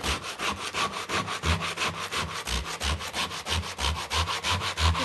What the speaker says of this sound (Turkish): Arkasından zımparalayacağız.